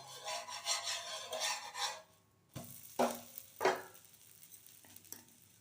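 A fibre- and iron-rich dosa sizzles in oil on a hot pan. A steady crackling fry gives way to a brief pause, then a few distinct scraping, tapping strokes as the dosa is flipped, close up.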